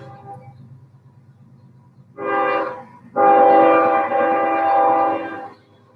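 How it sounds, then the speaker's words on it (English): A train passes very close to a house and sounds its horn loudly, a short blast followed by a longer sustained one over a low rumbling rail drone. "There's a train. Apparently very close to the house."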